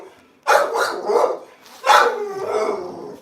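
A red merle dog outside barks loudly in two bursts, a rapid run of three harsh barks followed by another bark trailing into a growl, close and without talk.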